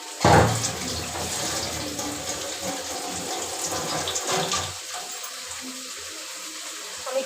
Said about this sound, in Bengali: আমি একটু পানি দিয়ে দেবো ঝোলের জন্য।